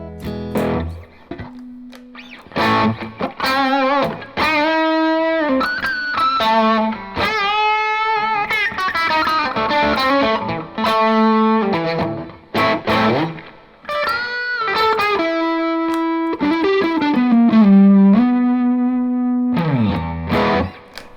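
An old Stratocaster electric guitar played through distortion, loud and close, with sustained melodic lead lines, bends and gliding slides separated by short pauses, alone without talk.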